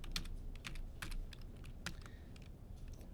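Fingers typing on a computer keyboard, a quick irregular run of crisp key clicks at close range, some strokes louder than others, with no voices.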